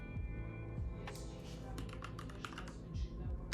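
Computer keyboard typing during work on a personal website, with irregular bursts of key clicks over a low steady hum, close to the microphone and fairly quiet.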